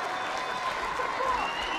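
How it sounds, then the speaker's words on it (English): Distant crowd applause at a women's rugby union test between the Black Ferns and the Wallaroos in 2014, a faint steady wash of clapping heard under a commentator's voice. "You can just hear the applause"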